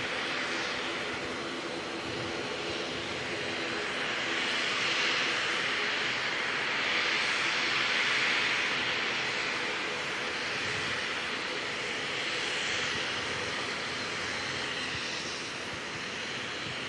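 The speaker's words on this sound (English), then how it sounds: "we've got a Singapore 747 about to come out as well" A Singapore Airlines Boeing 747 jet takes off from Auckland airport, its engines holding a broad, steady roar that swells slightly around the middle and stays loud throughout, with no talk.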